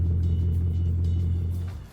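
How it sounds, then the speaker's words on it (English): A Bugatti Chiron's engine rumbles low and steady up close, a deep droning hum that fades out toward the end as the car settles. "Soon, Giovanni arrived at the boat with my car."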